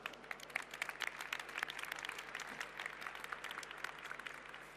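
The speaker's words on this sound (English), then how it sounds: "let's give him a round of applause" Dense, steady audience applause at an AI summit, many hands clapping at once at moderate level throughout with no talk.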